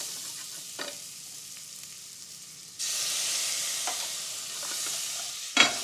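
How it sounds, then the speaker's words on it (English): A tiny splash of liquid hits a hot risotto pot, turning a quiet stir into a steady loud sizzle and hiss as browned residue is scraped from the bottom, ending in a sharp scrape-clatter. "just to introduce a tiny amount of liquid and clean the bottom of the pot up. Sort of scrape that brown off of the bottom."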